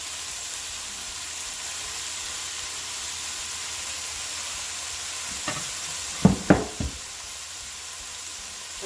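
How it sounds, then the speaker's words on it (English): Cabbage stir-frying in a hot pan for Jamaican stir-fry cabbage with scotch bonnet pepper, a steady close sizzle and hiss, with a few sharp knocks of stirring near the end. "I'm gonna add in my cabbage now."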